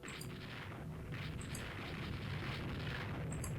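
Distant rumbling shell explosions in the naval battle game Rule the Waves 3, six-inch gun hits booming low and continuous, with faint high pings over the steady roar.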